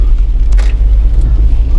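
A petrol car climbs a small hill in rainy weather, heard from inside as a steady, loud low engine rumble that runs the whole time with no talk.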